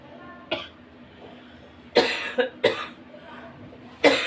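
Close, harsh coughing: a single cough, then a quick burst of three, and one more at the end.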